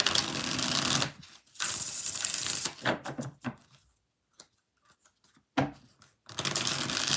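Tarot cards are shuffled close up in rapid riffling bursts, several separate rounds broken by short quiet pauses.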